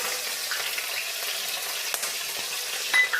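Chopped green chillies, cloves and cinnamon sizzling in hot oil, a steady close hiss with small crackles and a brief clink near the end.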